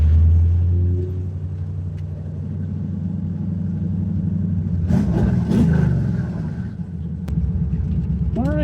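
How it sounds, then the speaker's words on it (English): 1968 Chevelle driving along, its engine a steady, loud rumble that swells briefly as it revs, with people speaking over it. "the old man enjoyed taking a little drive in the Chevelle"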